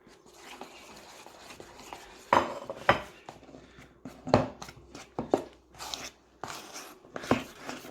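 Pizza dough is stirred with flour in a bowl, producing uneven bursts of utensil scraping and clatter against the bowl between quieter pauses.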